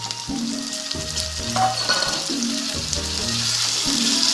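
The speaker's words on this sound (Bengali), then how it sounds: "এবার আমি আলুটা দিয়ে দিলাম" Potatoes tipped into a pan of frying onions with ginger and garlic paste sizzle steadily throughout, a close, continuous crackle with a few louder bursts as the pieces settle and are stirred.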